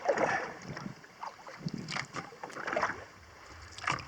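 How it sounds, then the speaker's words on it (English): Kayak paddles dip and pull through calm lake water on Clear Lake, with soft irregular splashes and drips close by as light wind buffets the microphone. "we're going to just kind of paddle up the lake a little bit"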